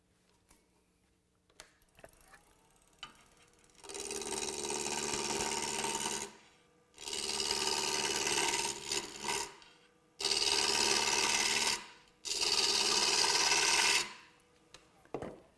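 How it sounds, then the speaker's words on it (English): A roughing gouge cuts a wooden spindle spinning on a lathe, giving four long, loud rasping bursts separated by short silent gaps, with a few quiet knocks before the first pass. "with the roughing gouge, we're making pretty short work of that spindle"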